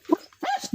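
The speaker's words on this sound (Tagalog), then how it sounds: "Ay, maingay ang aso" A dog gives a few quick, sharp barks close by, short and choppy.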